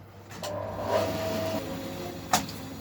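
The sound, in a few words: bandsaw cutting maple guitar body wood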